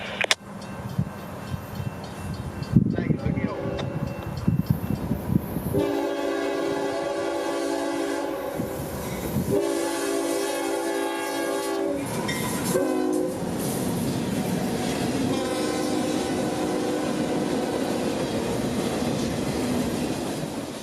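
A train rumbles past close by, its horn blaring in several long blasts over the steady roar and clatter of the cars.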